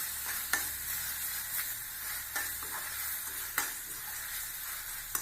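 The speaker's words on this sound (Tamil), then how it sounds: "இந்த இஞ்சி, பூண்டு எல்லாம் இந்த பச்சை வாசம் போகணும், நல்லா வதக்கணும்" Ginger and garlic masala sautéing in oil for pasta, a steady close sizzle with scraping stirs and occasional clinks of the spoon against the pan, no voices.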